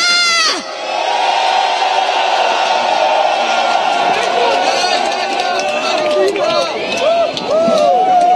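A large crowd at a nighttime candlelight protest rally roars and cheers in a loud, sustained wave that holds for several seconds, with scattered shouts and whistles rising near the end.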